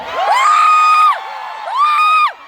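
A festival crowd at the side of the stage cheers and screams in two loud sustained waves at a concert at Aurora Music Festival Cebu 2025, with the high shrieks swelling, holding and briefly dropping between the waves.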